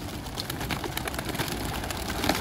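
A homing pigeon coos softly amid outdoor rustling and faint background hum, with no speech.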